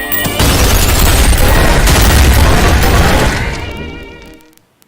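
A railgun in the video game Ultrakill fires through several thrown coins, a dense burst of loud booming blasts and crackling impacts that rings out for a few seconds, then decays into a fading metallic tail.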